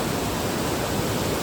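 Matti Ghatta waterfall in Uttara Kannada, a steady, dense roar of falling water close by, continuous and unbroken throughout with no voices.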